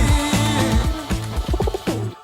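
Rhythmic pigeon cooing, loud and close: a run of low, throaty, bubbling coos repeating steadily with no other sounds around them.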